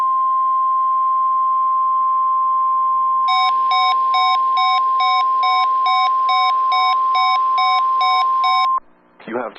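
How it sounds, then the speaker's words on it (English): A steady high electronic tone holds alone, then becomes a rapid repeating two-pitch beeping alarm, loud and close, cutting off abruptly at the end: a National Weather Service weather radio warning alarm test. "a test of the National Weather Service radio warning alarm feature"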